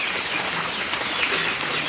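A sudden summer rain shower easing off falls as a steady, even hiss of drops on surfaces close by, with no talk over it.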